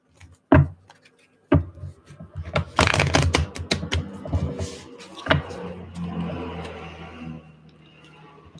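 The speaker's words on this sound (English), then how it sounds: "Let's just do one more shuffle." Several bursts of tarot cards being riffled and bridged close by, crisp papery flutters with short pauses between, then softer sliding and tapping of the deck.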